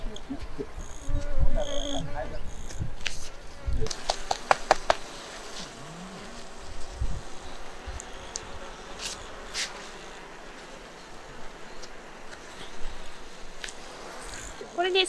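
Japanese honeybees (Apis cerana japonica) buzzing around a traditional box hive during a honey harvest, a steady close insect drone with knocks and taps mixed in, loudest through the middle.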